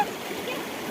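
River water runs and gurgles close by where people are bathing, a continuous rushing wash with light splashy texture and no clear talk over it.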